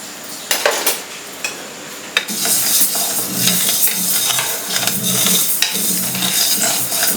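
Dry spices roasting in a home kitchen pan, stirred with a utensil that scrapes and clinks steadily against the metal, a few sharp knocks early and then continuous close scraping.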